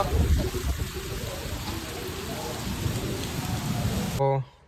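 Steady heavy rain with strong wind at night in Jamnagar pours down with a broad, rushing, gusting hiss, continuous and close, before cutting off abruptly at the end.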